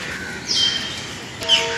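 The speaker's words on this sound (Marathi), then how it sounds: "हे बघा वरती चिपकलेत किती सारे चिवचिव करतात" Small birds, including lovebirds, in a zoo aviary at Rani Baug, Byculla, give two brief, sharp chirps about a second apart over steady background hubbub.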